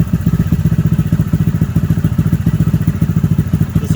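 Honda Grom MSX125 motorcycle idling while not yet fully warmed up, a steady close-up single-cylinder chug with rapid, even pulses and a slight clatter, heard alone with no talk.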